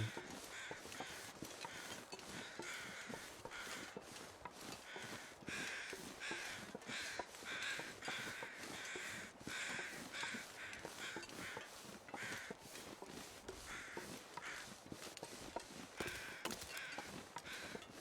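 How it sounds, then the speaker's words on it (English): In The Long Dark video game, crows squawk over a deer carcass in the snowy wilderness, with repeated harsh caws in an irregular, continuous chorus at moderate distance. "Crows are still squawking over this deer."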